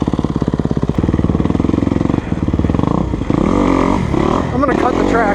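A 2020 Kawasaki KX250F dirt bike engine pulses loudly and close at a steady throb, then revs up and varies in pitch toward the end, on a woods motocross track.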